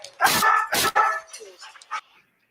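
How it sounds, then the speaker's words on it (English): A dog lets out a few shrill, sharp barks, two loud close ones followed by fainter yips, with no talking over them. "the dog barks are very shrill here in the beginning"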